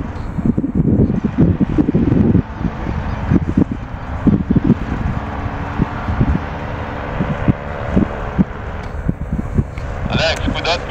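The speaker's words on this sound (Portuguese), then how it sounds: "cuidado que o vento tá junto." Wind buffeting the microphone during a paramotor flight, loud gusty rumble mixed with the motor's drone, with people talking at times.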